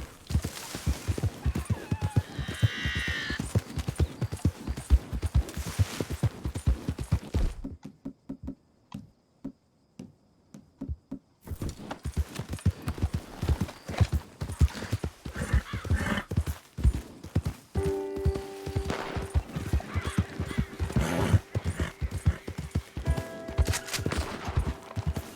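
Horse hooves clip-clop in a steady galloping rhythm in Red Dead Redemption 2, loud and close, with a whinny early on, a brief near-silent break midway, then the hoofbeats resume under game music and sounds.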